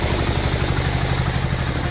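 A vehicle engine idles as it warms up before plowing, a steady, continuous low rumble with a faint throbbing pulse, close and unbroken, with no voices.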